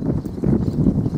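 Hooves of a dun roan Quarter Horse used for ranch and cattle work, clip-clopping in a short run of steady steps in the countryside of Buenos Aires province, close by and fairly quiet.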